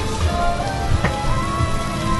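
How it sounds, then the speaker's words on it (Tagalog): Heavy rain pours down during a short ride, a steady, dense wash of drops with a few louder splashes, and no talk. "Pero lakas pa rin yung ulan yan."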